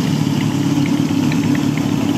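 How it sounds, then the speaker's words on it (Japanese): A Kawasaki Z2 motorcycle engine rumbles steadily through a loud aftermarket Yoshimura exhaust, close up, with a constant low throb and no talking. "ええ音するマフラー"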